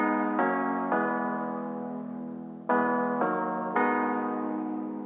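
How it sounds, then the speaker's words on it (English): An electric piano plays a chord progression of sustained chords, close and clear, with each chord struck and left to ring and decay before the next change, and no voices. "So start off with this electric piano playing this progression."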